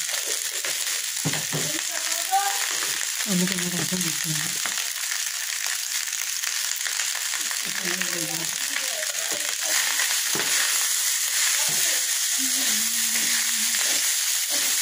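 Leftover rice frying in a hot pan, a steady loud sizzle throughout with scraping and stirring noises, while someone talks over it at intervals.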